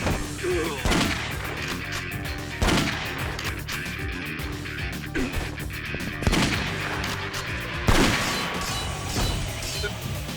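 Shotgun blasts in the video game Yakuza 3, four heavy, widely spaced booming shots over a continuous game soundscape, with some talking between them.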